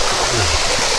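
Steady rushing of a stream and waterfall on a hillside trail near Sitakunda, Chattogram, a continuous broadband wash of flowing water close by with a faint low murmur beneath.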